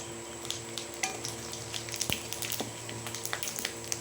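Black and white cumin seeds sizzling in hot oil along with dried red chillies, a soft steady fizz with scattered tiny pops and one sharp clink, close but quiet, and no talking.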